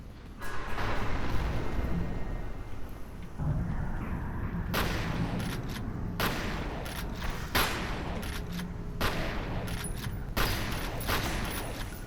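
Dense gunfire and explosive blasts from the shooter F.E.A.R. fill the scene, with rapid bursts and repeated loud shots over a constant roaring background for the whole stretch, no voices.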